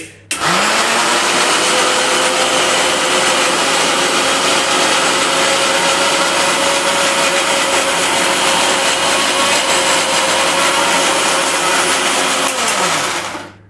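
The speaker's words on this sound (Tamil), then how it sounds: "இதுக்கு மேலே நம்ம வந்து ஜாடில் மிக்சி ஜாடில் போட்டு அரைப்போம்" A mixer grinder whirs steadily and loudly as it grinds a coconut mixture in its jar for a squid curry, starting abruptly and running without a break for more than ten seconds.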